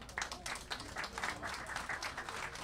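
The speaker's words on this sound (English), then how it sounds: "We love it when the moderator gets a lot of applause too" Applause from an audience at a book event as the moderator, a journalist, is introduced; fairly quiet, continuous clapping with individual claps standing out, no talk.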